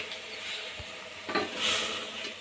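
Mutton boti pieces being stirred in hot oil with turmeric and salt, a soft steady sizzle with a few scraping utensil strokes against the pan, close and moderately quiet, no voices.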